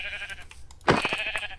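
A sheep in the block-building game Minecraft gives a short, close bleat, a single wavering cry standing out over faint background game sounds.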